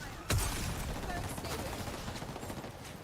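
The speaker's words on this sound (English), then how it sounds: "Firing on our foes." Gunfire in the multiplayer shooter Highguard opens with one sharp loud shot, then steady rapid fire that carries on under a dense din of battle noise.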